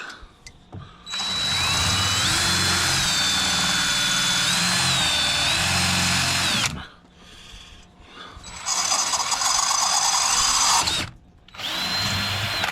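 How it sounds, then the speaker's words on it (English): A power drill whines loudly drilling a 1/8-inch hole through a metal soldering tip held in a vise, in long bursts, its pitch wavering, with short pauses between runs. "I'm going to drill that hole out to"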